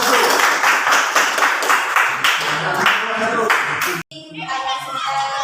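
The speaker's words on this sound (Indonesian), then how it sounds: "tepuk tangan untuk jawaban pertama itu." A classroom group claps hands together in quick, loud, rhythmic bursts, with children's voices mixed in; the clapping stops abruptly near the end, then scattered noise and chatter follow.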